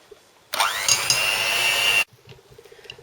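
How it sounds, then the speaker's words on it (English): An electric mixer beats butter and vegetable fat into dough for traditional Greek kourampiedes cookies. It makes a loud, steady whirring drone that starts suddenly, holds for about a second and a half, and then cuts off, leaving faint kitchen sounds. "And here I have the butter and the vegetable fat, and I'm going to beat it well."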